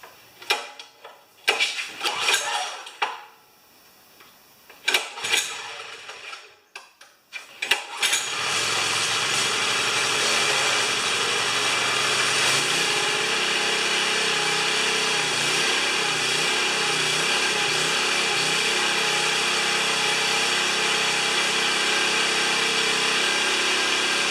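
A Honda HS35 snow sweeper with a fuel leak, several short pulls and sputters before its small engine catches and settles into a loud, steady close running drone.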